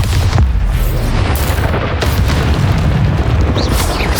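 A Bombarda spell explodes in the video game Hogwarts Legacy, a loud booming blast sustained with rumbling debris for several seconds, close and dominant.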